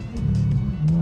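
A BMW E36 M3 engine runs close by with a low, steady throaty rumble that swells slightly near the end of a brief one-second burst.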